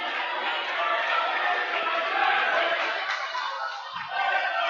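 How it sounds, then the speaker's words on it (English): A rowdy crowd at a high school volleyball game keeps up a steady, loud roar of cheering and chatter throughout. "Rowdy crowd tonight."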